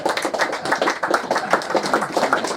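A live audience claps at a UFO network talk in Swansea, a dense patter of many hands with fairly steady rhythm, moderately loud and near, with no voices over it.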